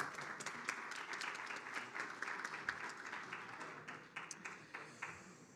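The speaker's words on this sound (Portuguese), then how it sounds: "Uma salva de palmas." Audience applause for a panel moderator at a legal forum on mass litigation, a fairly quiet round of clapping with distinct individual claps standing out, gradually thinning toward the end.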